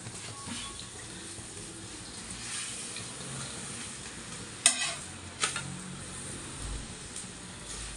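Sliced ridge gourd fries in a pan for a home-style palya, a soft steady sizzle running low and even, broken by a couple of sharp clinks and scrapes near the middle.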